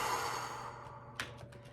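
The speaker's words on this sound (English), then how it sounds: "Take a few deep breaths." A single deep breath drawn in and slowly let out, a soft airy exhale fading over a couple of seconds in a quiet room, followed by a few faint small clicks.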